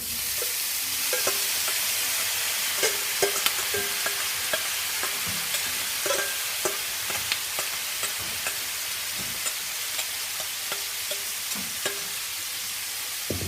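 Marinated Brussels sprouts with garlic fry in a cast iron skillet, giving a continuous soft sizzle broken by repeated sharp scrapes and clinks of stirring, close and fairly quiet, no voices.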